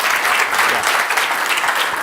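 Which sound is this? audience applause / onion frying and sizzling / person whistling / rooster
audience applause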